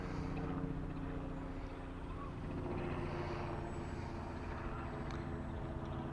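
A 245-gram Mini Surfer FPV RC plane in flight, a steady droning motor hum with a continuous, even tone throughout, moderately faint and without speech.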